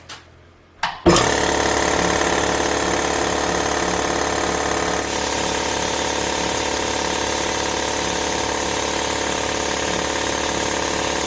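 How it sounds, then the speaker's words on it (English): A new air compressor in a knife-making workshop clicks on and then roars into a loud, steady running drone with a rhythmic pulsing, continuing close by without speech. "I'm going to turn power on the lead that goes to the compressor"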